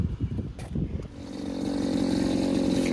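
A string trimmer cutting tall grass on a nature strip, with a brief burst of choppy thuds giving way to a steady, loud, rising motor whine close by.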